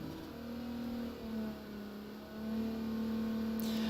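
A car engine held at steady revs during ECU tuning with a Syvecs plug-in kit, a continuous mid-pitched hum that dips briefly and then rises slightly, with no talk.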